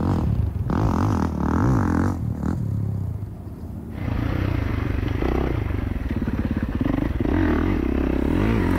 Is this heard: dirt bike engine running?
yes